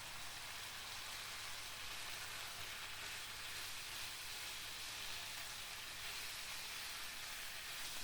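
Sliced onions sizzle in a hot pan with a steady, even hiss that carries on unbroken at moderate volume and fills the space with no one speaking.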